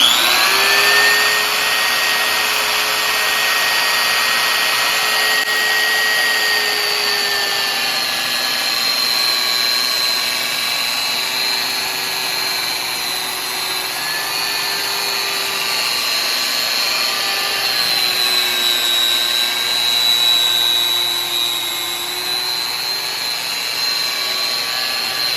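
An Excited Work 750W telescopic drywall orbital sander with vacuum bag runs steadily at its highest speed setting, a loud, continuous high-pitched whine and motor hum with slight pitch wavering throughout, no talking.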